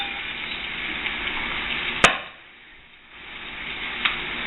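Boiled, drained squash dropped into a pan of frying onions and cheese mixture, bringing a steady sizzle with a sharp clatter, a brief dip in the frying sound, then the sizzle building again.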